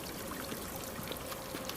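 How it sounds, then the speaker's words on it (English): Water in the Amnesia Rebirth game pours into a dark hole, heard as a soft, continuous trickling stream at low level with no talk. "So water goes into spooky hole there"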